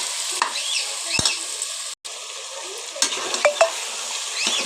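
Vegetables and green peas sautéing in hot oil for vegetable biryani, a steady close sizzle with intermittent scraping stirs of a spoon in the pan, no voices.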